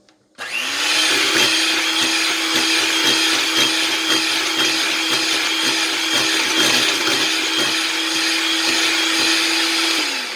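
An electric hand mixer beats butter and vanilla in a bowl for brownie batter, a steady loud whirring hum that holds for about ten seconds with no talking.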